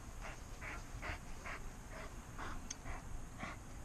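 A working dog pants steadily during protection training, a run of short rhythmic breath bursts repeating about twice a second, close by over a constant background hiss.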